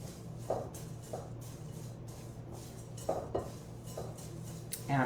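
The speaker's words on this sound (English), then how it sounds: "let me just mix those together" Ingredients for maple pumpkin breakfast cookies are stirred together in a bowl with a utensil, giving soft scraping and a few clinks against the bowl at irregular intervals, close and quiet, with no talking.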